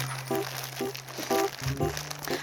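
A plastic knitting-needle pouch being opened by hand, with repeated short crinkles and crunches close up, growing denser toward the end, over a faint steady background hum.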